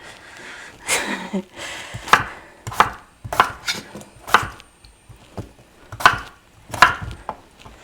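Knife chopping potatoes into chunks on a cutting board while making Thanksgiving side dishes, with a steady run of close, crisp thuds and cuts spaced irregularly, about a dozen strokes with no talk.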